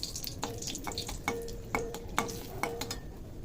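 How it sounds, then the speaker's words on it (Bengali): Dried red chillies hitting hot mustard oil in a wok give a soft sizzle, broken by sharp, regular clinks and scrapes of a spatula stirring against the pan. "তেলটা গরম হয়ে গেছে, দিয়ে দেবো 4-5টা শুকনো লঙ্কা"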